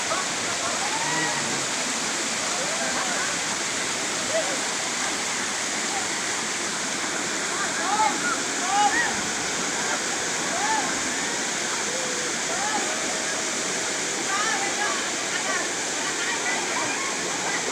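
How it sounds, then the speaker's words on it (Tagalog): Strong rushing water pours steadily from a hidden waterfall at Basud, a loud continuous roar with scattered chirps above it. "Oh, lakas ng tubig"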